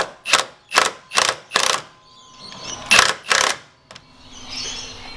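Top plate bolts being tightened with a ratchet, sounding as a run of loud, close, rhythmic clicking bursts, four in quick succession, then two more after a short pause, with quieter mechanical rattling between them.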